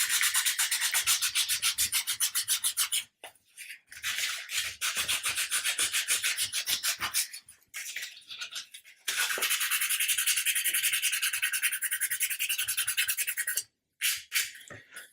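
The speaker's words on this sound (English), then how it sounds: "we're now going to sand the full surface, which blends it in and it takes the coarse" Hand sanding of the wooden hull of an Amati 1/80 scale Endeavour model ship, with rapid rhythmic back-and-forth rasping strokes in several bursts and brief pauses, close and fairly loud, no speech.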